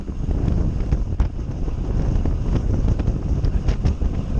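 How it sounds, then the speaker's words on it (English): Wind buffets loudly and steadily across a bicycle rider's microphone while descending a steep, hilly road in the Pennines, a constant roaring rush with occasional sharper gusts and no one talking. "The wind's going from the left to the right,"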